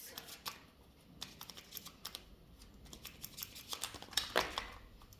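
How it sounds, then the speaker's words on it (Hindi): A deck of tarot cards being reshuffled by hand after a couple of cards dropped, giving soft repeated riffling and flicking rustles at close range, with a denser burst of card slaps near the end and no speech. "इसलिए मैं दोबारा शफलिंग कर रही हूँ"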